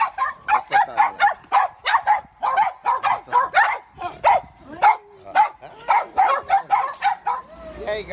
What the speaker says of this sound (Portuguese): Tem uma galera de cachorro aqui